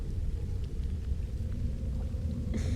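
Storm thunder rolls as a low, continuous rumble, moderately faint and steady throughout the short stretch, with no voices over it.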